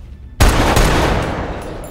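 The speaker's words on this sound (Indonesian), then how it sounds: "Connor mengingkari janjinya dan malah menembak Moreno." A single loud gunshot from a heist film bursts out suddenly and decays into a long, broad reverberant tail, with no talk over it.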